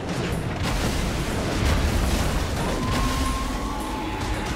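Rocket explosions in the video game Saints Row IV, a continuous rumbling roar of blasts and booms, loud and dense throughout.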